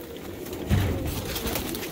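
Tippler pigeons coo in a loft as they crowd in for their feed. Soft, close cooing swells after a brief pause and continues over a low, rustling background.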